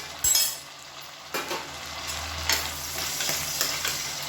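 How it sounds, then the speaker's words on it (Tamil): Onion and tomato sauté in a pan for a Tamil-style chicken chukka lunch, with a steady close sizzle and a few clinks and scrapes of a spoon stirring through the mixture. "இதையும் சேர்த்து நல்லா வதக்கி விட்டுக்கலாம்."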